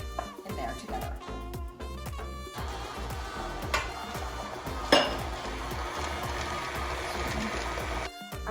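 Cookie dough of flour, butter and sugar being mixed with oats in a bowl, a steady run of scraping, knocking stirs and clinks of utensil against dish, close and fairly loud throughout.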